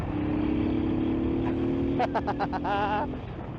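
A Honda Bros (Hawk GT) motorcycle riding along, its engine a steady, continuous drone throughout, with a short stretch of voice-like sound over it near the end.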